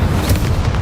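The Incendio fire spell from Hogwarts Legacy bursting into flame, a loud, dense, low rumbling whoosh that fills the whole short moment with no pause.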